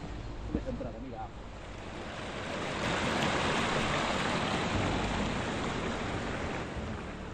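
A stream rushes past the watermills of Folón and Picón, a steady broadband wash of water close by that swells louder midway and holds steady, with faint voices briefly at the start.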